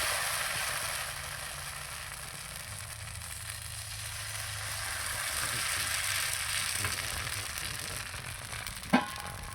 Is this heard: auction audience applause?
no